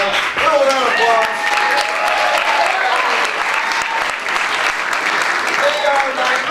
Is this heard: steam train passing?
no